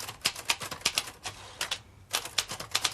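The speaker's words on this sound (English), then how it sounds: "Typing up my notes." Rapid clacking keystrokes from a manual typewriter in a 1980s home, arriving in quick irregular bursts with a brief pause midway, close and fairly loud with no talking.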